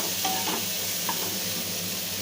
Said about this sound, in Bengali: এরপর দিয়ে দেব ফুলকপি, যেটা আগের থেকে সেদ্ধ করে রেখেছিলাম, দিয়ে ভালো করে কষিয়ে নেব